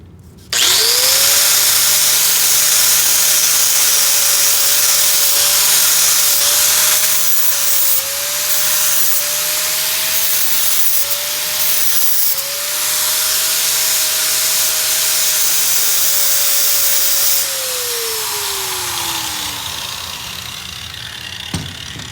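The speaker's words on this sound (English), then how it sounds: "this flap disc makes it nice and smooth and cleans up all the deep, hard cuts" Angle grinder fitted with a flap disc smoothing down a weld, a loud steady high whine with a rough grinding hiss that holds for about seventeen seconds, then winds down and fades as the disc spins to a stop.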